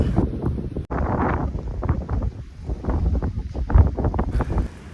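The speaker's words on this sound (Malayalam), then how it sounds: "ഇന്ത്യയിൽ ഏറ്റവും അധികം കാറ്റ് വീശുന്ന ഒരു സ്ഥലവുമാണിത്" Strong wind at Ramakkalmedu, one of India's windiest places, roars and buffets the microphone in uneven gusts, a loud, constant rushing noise with no clear voices.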